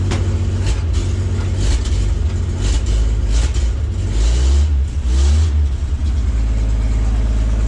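A 1937 Chevy truck engine starts and revs repeatedly, loud and close, with the rising and falling revs coming in short surges over a rough idle.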